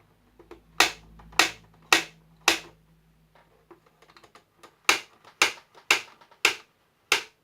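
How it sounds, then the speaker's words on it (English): Sharp mechanical clicks from a 1/18 scale toy main battle tank's turret rotating, in two quick bursts, four evenly spaced snaps, a pause with faint ticking, then five more, close and crisp. "but it also has an annoying clicking noise"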